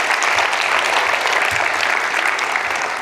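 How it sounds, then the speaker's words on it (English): Audience applause at a customer experience conference talk in Melbourne, a dense and continuous round of clapping from a full room, loud and even from start to finish. "Give them a round of applause."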